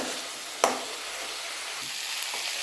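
Onions stir and fry in a pan in a steady, bright hiss, with a sharp spatula scrape near the start and a few faint clicks, and no talking.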